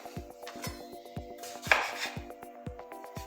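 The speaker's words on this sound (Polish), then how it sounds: "Zaczniemy od pokrojenia pomidora." A knife slices a tomato on a cutting board for a fluffy omelet with smoked fish, giving a steady series of close, crisp chopping knocks at an even rhythm, with faint kitchen clatter behind.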